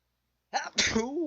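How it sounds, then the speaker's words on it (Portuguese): A single sudden sneeze breaks the silence, close and sharp, with a brief voiced aftersound. "Espirro."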